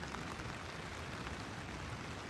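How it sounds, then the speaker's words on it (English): Light rain pattering steadily on a tent at a campsite, a soft continuous hiss of drops close by with no talking. "It's raining lightly, it's beautiful and moody."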